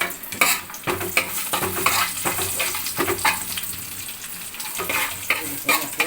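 Onions sizzle and fry in a hot pan for ghee rice, with steady crackling broken by repeated stirring scrapes of a utensil against the pan, close and fairly loud.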